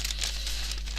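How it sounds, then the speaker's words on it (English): Paper being cut with scissors for a mixed media art journal page gives a steady close crisp crinkling and snipping over a constant low hum. "That means I'm going to have to cut it with scissors."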